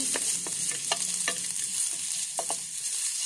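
Ginger sautés in a pan with a constant soft sizzle, close by. Spatula scrapes and taps sound at irregular intervals throughout.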